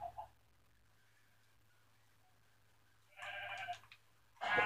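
Sheep in the Minecraft video game give two fairly loud bleating bursts near the end, separated by a short gap, over a quiet low hum with no speech.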